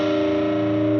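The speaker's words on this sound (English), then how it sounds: "Okay, a minor sixth would sound like this." Heavily distorted electric guitar sustains a minor sixth interval, a single thick two-note dyad held loud and even with a slightly rough, beating edge, played alone.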